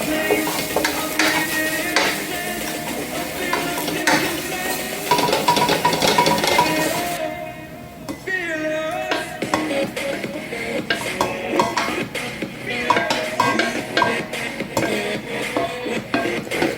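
Scrambled eggs stirred in a frying pan for chicken fried rice, with a continuous sizzle and repeated scraping and clinking of a utensil against the pan, briefly quieter partway through, no talking.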